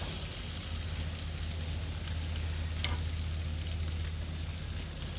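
Steady, dense sizzling of chicken kabobs with vegetables cooking on a hot grill, continuous and close, with a low hum underneath and no talking.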